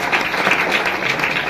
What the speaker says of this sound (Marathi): या बचत गटाच्या महिलांसाठी पुन्हा जोरदार एकदा टाळ्या द्या